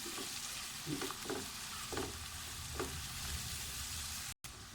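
Steady sizzling of garlic and ginger frying in a pan, with a few soft stirring clicks and scrapes, continuous and fairly close, no voices.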